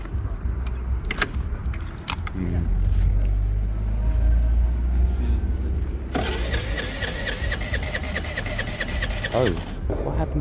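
A Piaggio scooter engine cranks and turns over at close range, with an uneven compression note and a sudden change in pitch partway through. Keys jangle and a person talks nearby.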